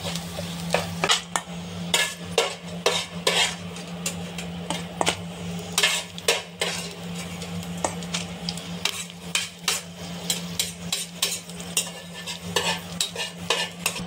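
Almonds and dried dates frying in a pan for sheer kurma, with frequent scraping and clattering stirring strokes over a low, continuous sizzle.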